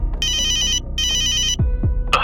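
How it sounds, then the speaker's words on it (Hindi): Cartoon telephone ringing after a number is dialed: two electronic ring bursts with a short gap between them, loud and clear with no talking over them. "रोहन कॉन्टैक्ट लिस्ट में रामू काका का नंबर ढूंढता है और डायल करता है।"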